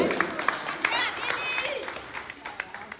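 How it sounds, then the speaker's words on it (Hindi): A women's gathering of a political party's women's wing breaks into applause, dense clapping mixed with crowd noise and voices, steady at moderate loudness throughout. "तालियां बजाओ उन महिलाओं के लिए जोर से"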